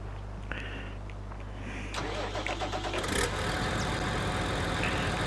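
A tractor engine in Farming Simulator 19 on PS4 cranks and starts around the two-second mark, then settles into a steady mid-pitched running drone over low background hum, with no talking.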